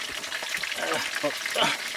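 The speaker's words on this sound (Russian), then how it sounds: "Начинаем жарить рыбу" Battered fish hisses and crackles in hot oil, with a voice speaking intermittently over the frying.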